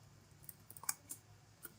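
A computer mouse clicks a few times during a B4A programming session, with faint, sparse, sharp clicks over a low steady hum in a quiet room.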